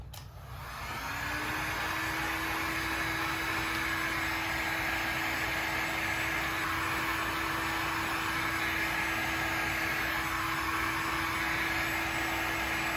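A heat gun running steadily close by while warming the glue on a Porsche 911 GT Sport steering wheel spoke: a loud, even fan whoosh with a constant high whine that starts after a brief click and holds throughout.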